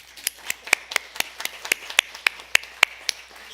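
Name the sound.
congregation applauding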